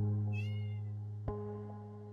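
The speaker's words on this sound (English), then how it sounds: "This baby kitty is crying for help." A stranded kitten stuck by a river gives one clear, high, drawn-out meow close by, followed by a single sharp tap against a low steady background hum.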